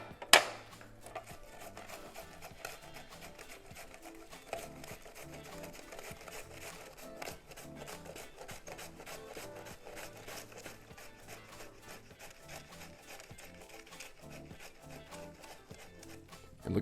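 Cabbage sliced on a mandolin slicer, a fast, even run of crisp scraping chops repeating steadily at close range, fairly quiet overall, with no speech.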